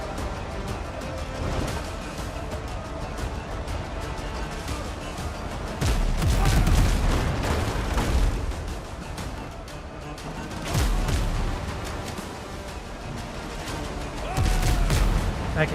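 Broadside cannons of a sailing ship fire in Windrose, a naval video game, as a series of loud booming volleys that swell and fade over a constant dense rumble of battle noise.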